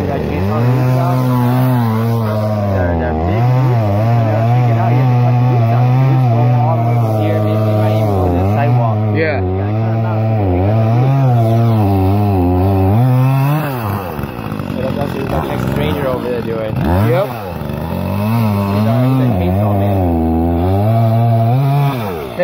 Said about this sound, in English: I'm about to do some chainsaw.